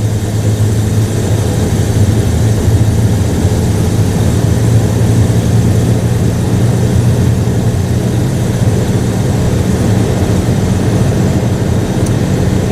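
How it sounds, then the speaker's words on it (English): A Buick Roadmaster engine with a carburetor and automatic transmission revs steadily under acceleration, a loud continuous low drone held without any gear shift for the whole stretch. "It's just more and more RPMs and more stator, rotor, automatic transmission resistance."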